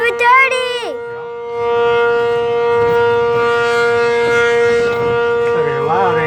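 An ACA Cyclone 125 civil defense siren sounding a test in Amarillo, Texas: a loud sustained rotating wail with rich harmonics, rising at the start and winding down and back up near the end.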